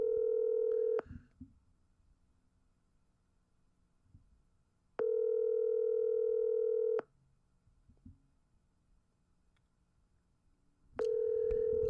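Telephone ringback tone on an outgoing call: three long, steady electronic tones of about two seconds each, separated by roughly four seconds of near silence, clear and close.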